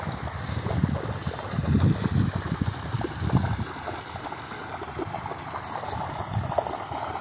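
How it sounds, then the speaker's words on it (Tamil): Irrigation water flowing into a tapioca field in Pondicherry, a steady rushing, gurgling stream with some wind buffeting, continuous and fairly close, no talk. "இப்போ வந்து தண்ணி பாஞ்சிட்டு இருக்கு."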